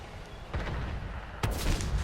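Tank cannon fire in the console version of World of Tanks, from a Strv S1 tank destroyer: two heavy booming shots about a second apart, each a sharp blast over a low rumbling battlefield background.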